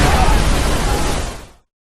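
A bomb detonated by remote control in a Korean film erupts as a loud, dense blast that stays heavy for about a second and a half before cutting off abruptly to silence.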